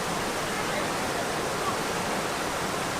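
Steady broadband rush of waterfalls at a crowded spot in Malaysia, filling the scene evenly and continuously without pauses or voices.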